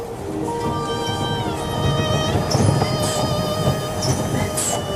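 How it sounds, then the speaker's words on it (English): A train pulls into a station platform near Picton, its brakes and wheels squealing in long sustained tones over a steady rumble and clatter of railcars, loud and close throughout. "waited for the train from Picton"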